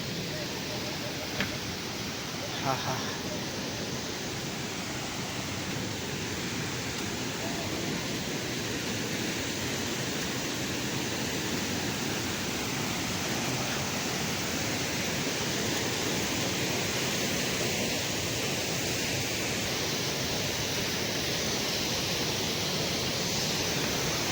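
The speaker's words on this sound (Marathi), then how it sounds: "आता आपण धबधब्याच्या फार जवळ आलोय तर माझा बोललेला आवाज काही यायचा नाही तुम्हाला व्यवस्थित पाण्याचाच आवाज मरणाचा आहे" A loud waterfall near Bhandardara dam, the Sonti falls, roars as a dense, steady broadband wash close by, unbroken for the whole stretch with no pauses.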